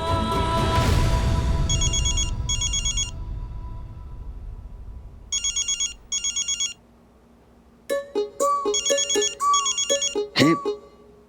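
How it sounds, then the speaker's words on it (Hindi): A phone ringtone for an incoming video call chimes in repeated short melodic bursts late at night, rising above a faint background and followed by a clipped electronic tone sequence. "ये दक्कू भाई इतनी रात को क्यों फोन कर रहे हैं, वो भी वीडियो कॉल।"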